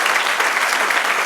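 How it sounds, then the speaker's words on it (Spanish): A church congregation claps together in a dense, loud, even wash of applause that fills the whole moment without any break. "Den un aplauso al Señor"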